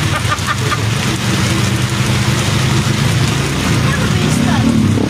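Heavy rain pours in a dense, constant hiss with no let-up, and people talk beneath the downpour.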